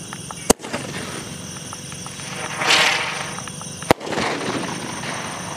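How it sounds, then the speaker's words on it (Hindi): A Diwali shooting star firework fires off with two sharp, loud cracks a few seconds apart, separated by a fizzing, hissing burn that rises and fades outdoors. "और ये जल रहा हमारा शूटिंग स्टार देखते हैं ये कैसा चलता है।"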